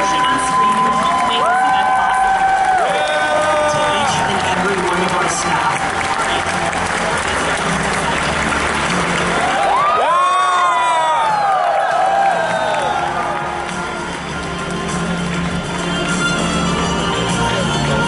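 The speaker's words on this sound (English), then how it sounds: "One more round of applause, not just for everyone on stage" A large convention crowd at BronyCon applauds and cheers loudly for a long stretch, with whoops and shrill shouts rising above the sustained clapping.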